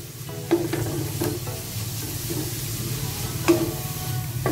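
Chili peppers sizzle in a frying pan while being stirred, a steady close frying hiss broken by several sharp scraping strokes of a utensil against the pan as the dish is cooked.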